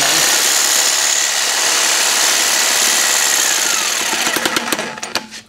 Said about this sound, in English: it works really well just using a reciprocating saw.